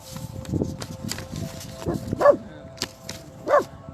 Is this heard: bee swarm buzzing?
no